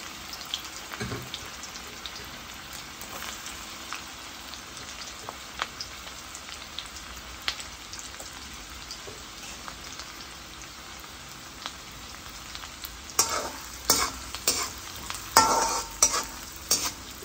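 Onions fry in hot ghee in a low, steady crackle like light rain, nearby but faint. A few louder stirring scrapes come toward the end, and no one speaks.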